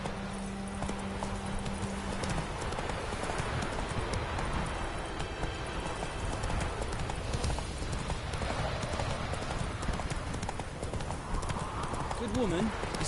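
Roach, a horse in The Witcher 3, gallops with a steady, close clip-clop of hooves on a road, continuous throughout while a voice talks over the hoofbeats.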